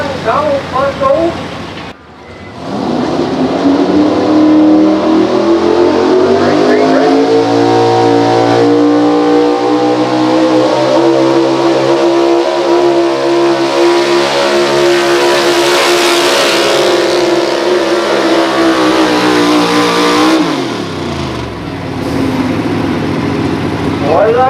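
A pulling truck's engine roars at full revs through a truck pull run in Berryville, Virginia, a loud sustained drone that climbs and holds for nearly twenty seconds before cutting off, with an announcer's voice over the crowd.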